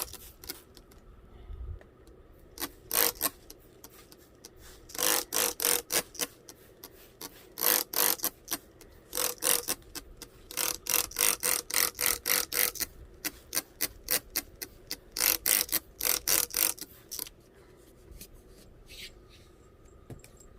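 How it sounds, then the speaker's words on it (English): A spray bottle spritzing water onto small potted seedlings, a long run of rapid, crisp squirts in clustered bursts with brief pauses, close and alone with no talking. "Now I'm going to give them a spritz of water."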